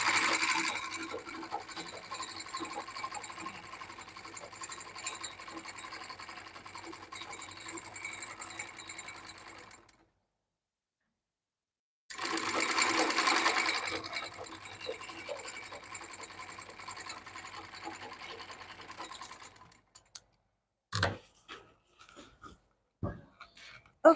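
An overlocker sewing machine stitches pieces of a pair of shorts in two rapid, steady mechanical runs separated by a short pause, followed by a few sharp clicks and knocks of handling the fabric.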